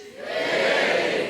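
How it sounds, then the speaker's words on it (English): A live comedy audience bursts into a loud, swelling cheer, building quickly and holding steady as many voices shout together. "Give us a cheer if you are married."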